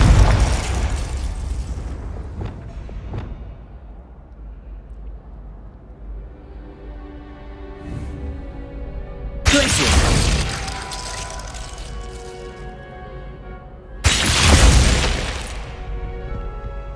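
Repeated blasts of the Confringo fire spell in Hogwarts Legacy: a loud burst at the start, then two more sharp explosive booms about five seconds apart, each with a crackling tail, over a steady low game rumble.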